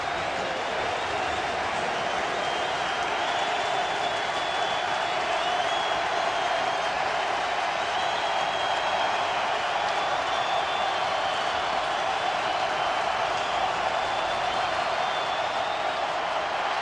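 A roaring football crowd at FedEx Field, a steady, dense wall of noise from a packed stadium that holds constant and loud throughout with no break.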